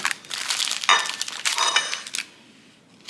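An ordinary knife, not a bread knife, slices banana bread baked in a parchment-lined pan, giving a few close, crisp scraping and crumbly cutting bursts before falling quiet.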